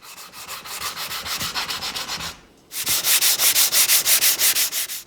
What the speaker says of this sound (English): Then I'm going to sand, starting with a pretty coarse grit to round over all the edges.